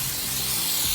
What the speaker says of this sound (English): Spray the bug off on the main front parts of the body.